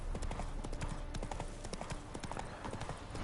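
Hooves of the horse Roach in the Witcher 3: Wild Hunt video game clip-clop in a quick, steady rhythm throughout, moderately close over a faint ambient bed.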